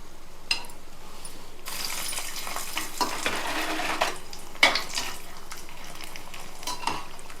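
Four green chilies tossed into hot oil in a home kitchen pan for buttermilk-cured chilies, setting off a broad, steady sizzle after a quiet start, with scattered stirring scrapes and a sharp clink near the middle.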